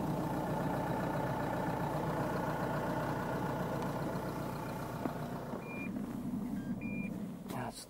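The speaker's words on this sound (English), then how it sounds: "Stop the engine." A Renault car's engine idles steadily with a low rumble, close and continuous, while snow chains with metal studs are fitted to a tire; a few short electronic beeps chirp late, then the engine cuts out near the end.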